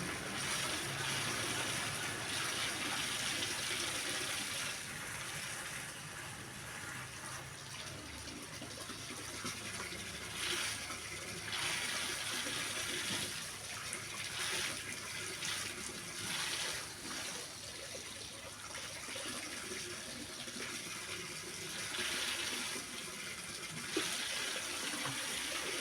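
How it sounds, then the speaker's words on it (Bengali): Water pours steadily as bottles and drums are filled, a continuous gushing splash that swells and eases slightly over about half a minute. Close and unbroken, with no voices. "যে জলটা পড়ছে বাকি জল, ওই জল দিয়ে ড্রামগুলো ভরে দিই।"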